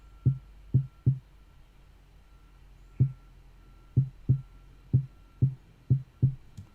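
A punchy low tom drum sample repeats in a bouncy, syncopated pattern of pairs and triplets, with soft, short, deep thuds over quiet background hiss.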